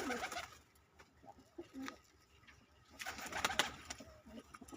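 Punjabi Malwai pigeons coo in soft, repeated bursts, fairly close but quiet, with faint rustling and chirps between the calls and no speech.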